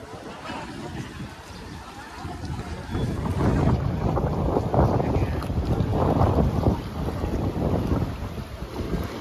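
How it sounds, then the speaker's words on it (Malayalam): A fishing boat comes in to the Vadi fishing harbour in Kollam, its engine a broad, steady rumble that swells after a few seconds amid gusty wind noise on the microphone, with no talk over it. "അതുകൊണ്ട് ഒരു ബോട്ട് വരുന്നുണ്ട്,"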